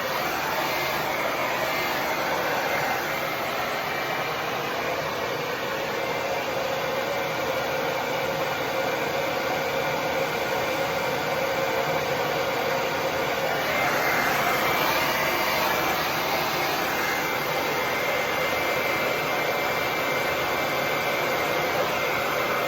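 A hair dryer runs continuously while blowing curly hair dry. The airflow is a steady, loud, close whoosh with slight shifts in tone as it moves.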